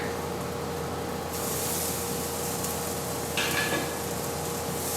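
Onions sizzle steadily in a frying pan, and the hiss swells into a louder, brighter crackle as red pepper is added, close and continuous with no talk.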